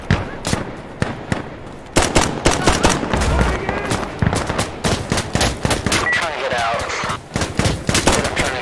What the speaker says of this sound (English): you're getting shot at, FZ.